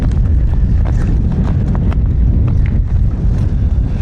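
Strong wind buffets the microphone on an open lagoon while kayak fishing, a loud continuous low rumble with gusting roars and occasional faint rustles above it.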